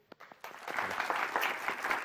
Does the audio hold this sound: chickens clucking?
no